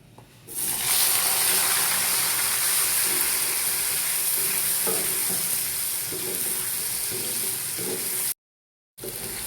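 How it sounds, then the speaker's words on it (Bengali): Onion and tomato sizzling steadily in a frying pan as they are stirred, a loud broad hiss that holds throughout with soft scraping under it, cutting out briefly near the end. "এটাকে আমি কিছুক্ষণ নাড়ব, পেঁয়াজটা নরম না হওয়া পর্যন্ত"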